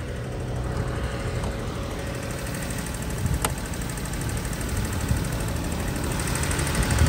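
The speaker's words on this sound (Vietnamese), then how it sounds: "Đây, đang nổ máy đây ạ" A Daewoo Matiz small car engine idles close by with a steady, slightly rattly rumble and a faint high whine, no talking.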